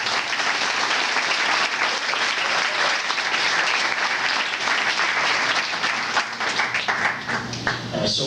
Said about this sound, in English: I'll give them a little round of applause for that